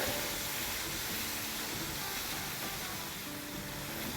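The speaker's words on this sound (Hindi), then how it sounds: "मसाले को भूनेंगे 2 मिनट तक" Masala spices with half a teaspoon of turmeric and salt fry in hot oil for biryani, producing a steady, even sizzling hiss that carries on without a break at moderate volume.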